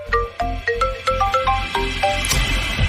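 A phone rings with an incoming call, playing a bright melodic ringtone of short repeated tones in a regular rhythm, close and clear, with no talk over it.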